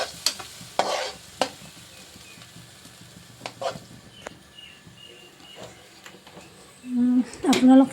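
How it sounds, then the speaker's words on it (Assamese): Spice paste of cumin, coriander, red chili, Kashmiri chili and turmeric fries in a pan with a soft sizzle under sharp intermittent stirring scrapes and clatters, with a voice speaking near the end. "কিন্তু আমি এতিয়া ভাজি ল'ম।"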